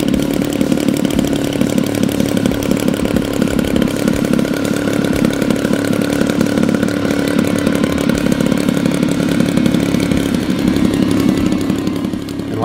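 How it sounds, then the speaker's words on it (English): A DA120 gas engine mounted on a 104-inch Extreme Flight Extra RC airplane runs continuously at a steady, loud, buzzing pitch, close up and alone, without voices. "make sure that the motor is running properly at low, middle, and high end."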